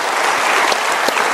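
A studio audience at an Indonesian talk show claps in steady, dense applause, loud and close, filling the whole short moment without any voices over it.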